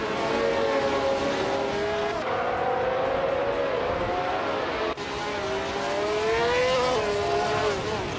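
Race cars roaring off the start in a racing video game at Charlotte Road Course, a 1971 McLaren M19A among them, a dense, continuous blend of high engine whines rising and shifting in pitch, loud and unbroken.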